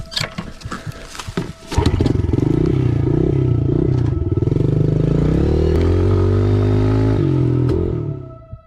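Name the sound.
motorcycle starting and riding off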